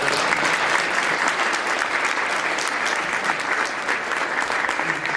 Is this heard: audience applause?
yes